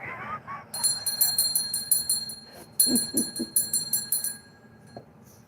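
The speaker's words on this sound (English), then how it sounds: "Spirit's like, ring the bell" A small bell rings rapidly in two bright, clattering bursts of repeated strikes, fairly close, with a voice speaking briefly between them.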